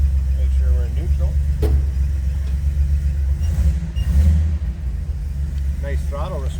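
A 1971 Jeep CJ-5 idles in neutral with a deep, close rumble that swells into a few throttle blips and then settles, while people talk over the engine.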